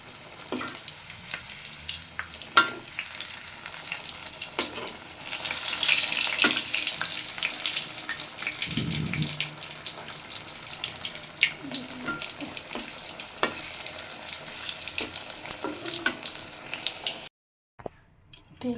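Eggplant slices sizzle in hot oil in a home kitchen pan, a steady hiss and crackle running throughout with occasional clinks, ending abruptly near the close.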